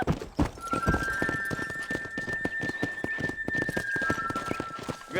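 Horse hooves pounding in a steady rhythmic gallop in the Western video game Red Dead Redemption, loud and continuous, with a faint sustained whistling tone over it.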